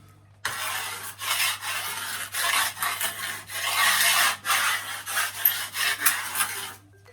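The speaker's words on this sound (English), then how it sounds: "Scrape off all the loose bits of paint on that wall" A scraper rasps loose paint off a wall in a series of rough, uneven strokes, close and fairly loud, with brief pauses between passes.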